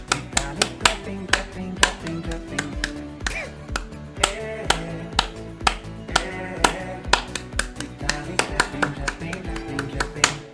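Rapid, crisp hand claps from the Vitalik Clappy game, repeating in a quick, fairly regular rhythm over a low musical backing, close and sharp throughout.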